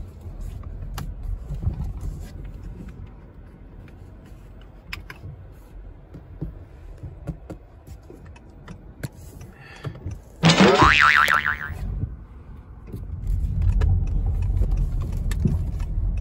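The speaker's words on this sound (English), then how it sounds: "This is not a long drive, so I'm gonna have it all at normal speed." A Honda Insight driven at normal speed on a short trip out to a market gives a steady low road and engine rumble from inside the cabin, with a brief bright chirping sound partway through and no talking.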